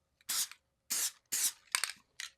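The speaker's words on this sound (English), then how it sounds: "just add a tiny bit of spray adhesive to the backs of these 2 die cuts" Spray adhesive hisses from a can onto the backs of two die cuts in short bursts, four or five quick sprays with brief pauses between, close and fairly quiet.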